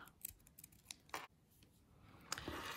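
Scissors snip scrap yarn on a crocheted keychain, several quiet, sharp cuts heard close up and spread irregularly through a quiet room.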